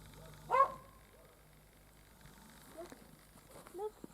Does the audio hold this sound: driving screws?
no